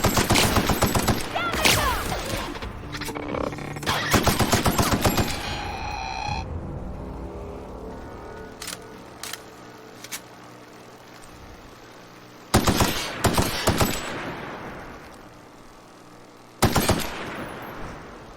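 Rapid bursts of video game gunfire on Xbox, loud and close, with dense volleys early on, then sparse single shots and two sharp bursts later over a low ambient background.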